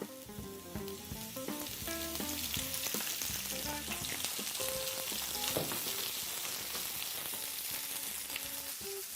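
Cherry tomatoes and pepper frying in olive oil, a bright continuous crackling sizzle with occasional pops, under soft tonal background music and without any speech.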